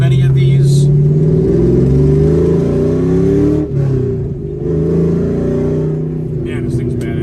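A 2002 Camaro Z/28 V8 rumbles and revs loudly up close, its engine note rising and falling through several throttle blips before easing back to a deep idle.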